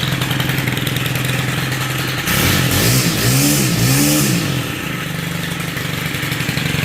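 A Stihl string trimmer engine held in a vise idles with a steady buzzing drone, then revs up for about two seconds with a rising and falling whine before dropping back to idle.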